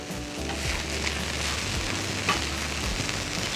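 Thin burger patties for a bacon double cheeseburger sizzle loudly and steadily on a flat griddle just after being flipped, a continuous close fry with no talking.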